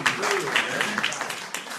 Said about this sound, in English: Let's give a big round of applause for Brother Mark Fuller.